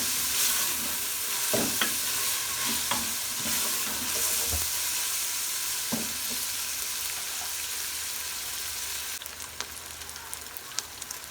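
Dry coriander and white cumin sizzle in hot oil in a pan, a continuous close crackling hiss broken by occasional scraping stirs and spoon knocks.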